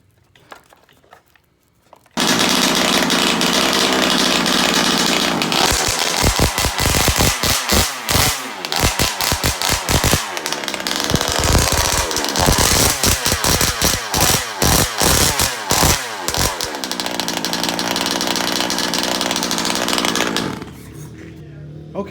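A brand new small RC car engine fitted with a metal pull start roars to life after about two seconds, buzzing loud and high like a chainsaw with repeated choppy revving bursts, then cuts out near the end.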